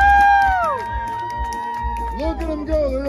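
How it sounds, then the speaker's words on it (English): A crowd cheers at the Valleyfair Corn Fest corn eating contest with whoops and rising shouts over steady murmur; a voice hollers over it. "let's give them one more huge cheer,"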